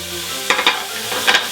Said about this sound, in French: La poêle est chaude, oignon comme ça.